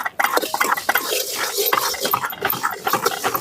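Four dried red chillies roasted in a pan with urad dal for a Tamil horse gram kuzhambu, a utensil stirring and scraping against the metal in quick irregular strokes with faint sizzling, close and steady.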